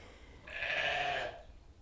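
A single sheep bleats once from a short distance, a clear wavering cry lasting under a second over quiet background noise.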